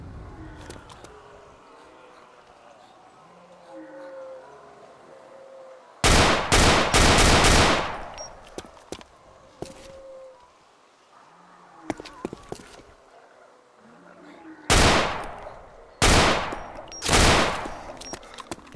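Galil rifle fire in the Arma 2 DayZ mod rings out in loud, sharp volleys, two clusters of closely spaced shots separated by quieter stretches of ambient outdoor sound.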